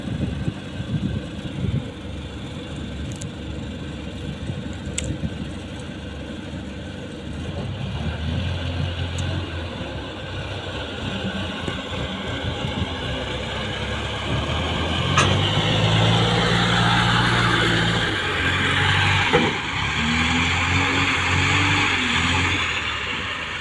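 A small loader's diesel engine running nearby, a rough idle that rises into a louder revving drone partway through, with intermittent clanks over it.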